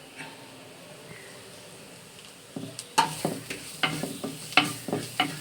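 Green chillies and chopped tomato for mutton curry land in a pan. A quiet start gives way to sizzling and scraping stir strokes that grow louder and more frequent.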